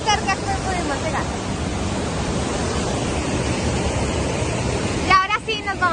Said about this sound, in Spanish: Llegamos a una mini cascada que no está tan fuerte